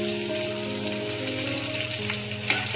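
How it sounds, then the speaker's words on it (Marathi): Green chillies and garlic frying in hot oil in a home kitchen, giving a steady close sizzle and crackle throughout with faint stirring, no voices. "तेल गरम झालं की आपण त्याच्यामध्ये अगोदर मिरची ऍड करूया."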